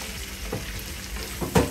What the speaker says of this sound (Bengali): পেঁয়াজটা হালকা বাদামি করে ভেজে নেব